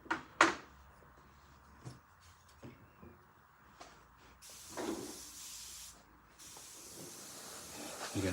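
An airbrush spraying paint onto a model tank gives soft hissing bursts, with a few clicks and handling knocks in the first seconds, then a longer sustained spray near the end.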